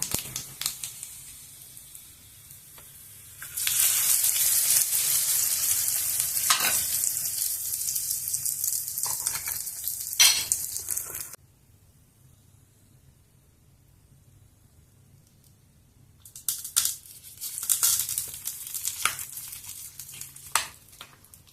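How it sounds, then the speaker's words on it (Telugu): Curry leaves frying in hot oil for a cucumber chutney, a steady close sizzle in two long stretches with a quiet pause between. "కరివేపాకు. బాగా వేగిపోయింది."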